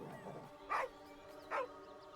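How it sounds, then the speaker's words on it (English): A dog in Baldur's Gate 3 gives two short yips, with quiet whimpering before them, set against a soft steady tonal hum. "I swear my dark urge better not hurt this dog."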